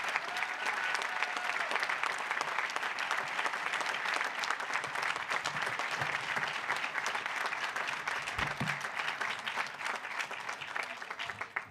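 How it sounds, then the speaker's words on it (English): A large audience at a 2013 undergraduate commencement applauds faculty and librarians with sustained, dense clapping that fills the hall steadily throughout. "would you please applaud our faculty and librarians and have them stand"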